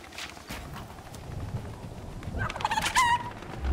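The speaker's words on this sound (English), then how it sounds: "Chicken, shut the hell up." A chicken in the Fortnite video game clucks and calls in a rising burst near the end, loud and close over low game noise and rumble.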